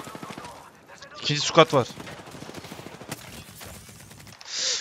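Gunfire in Apex Legends, a short burst of rapid shots in the middle and another near the end, loud and close, mixed with someone talking.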